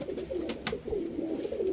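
Low, throaty cooing comes steadily from a pair of pigeons nearby, a male Ablook and a female Kalanka, with a couple of brief sharp clicks early on.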